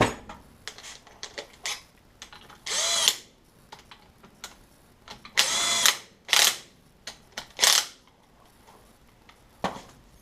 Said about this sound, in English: I'm going to go ahead and torque down all of my 8mm bolts now.